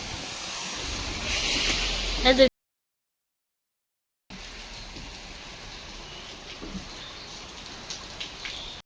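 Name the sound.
heavy rain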